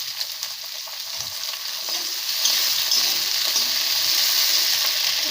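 Onion cut into separated petals fries in a pan for chilli chicken, a soft hiss that swells into a brighter, louder sizzle partway through and then holds steady.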